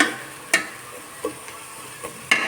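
Meat frying with onion, ginger paste and garlic paste for a biryani gives a faint, steady sizzle, broken by a few sharp, spaced clinks and scrapes of a spoon stirring the pan.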